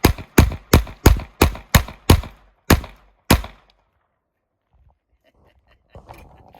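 Eight sharp, close gunshots from a 1911 .22LR pistol fire in a quick, fairly even rhythm, followed by silence and then faint voices.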